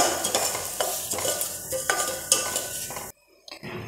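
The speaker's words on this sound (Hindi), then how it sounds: "बस इसे मैं एक से दो मिनट के लिए इस तरीके से भून लूँगी" Semolina dry-roasting in a pan, a spoon scraping and stirring it in steady, close strokes over a soft frying rustle, with a brief drop to near silence before the stirring resumes.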